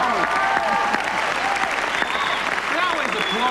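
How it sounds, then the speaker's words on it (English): Steady applause from a talk-show studio audience fills the clip, dense and continuous at close range, with a voice talking over it. "You're supposed to applaud, aren't you?"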